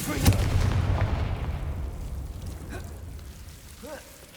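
The Confringo spell in Hogwarts Legacy goes off as a sharp fiery blast followed by a fading crackling rumble, with a couple of faint chirping effects near the end.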